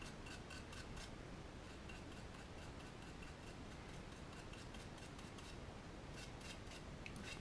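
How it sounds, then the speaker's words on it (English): Dry paintbrush bristles scrubbing back and forth across a model train wagon while weathering it with enamel and acrylic paint, a faint, steady rhythmic scratching and rasping, close up. "Random brushing backwards and forwards with very minimal paint on the bristles."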